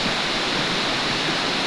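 Water from a stream beside a path rushes in a steady, close, broadband wash, heard alone for a brief moment.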